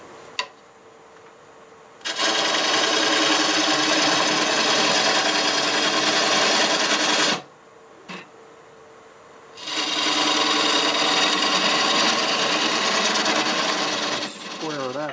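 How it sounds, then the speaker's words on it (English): A wood lathe spins a turning blank while a half-inch bowl gouge cuts a tenon, producing a loud, steady roaring cut in two long stretches split by a brief pause, with quieter motor hum between. "I'm going to switch to my 1/2-inch bowl gouge here. Cut that tenon on there."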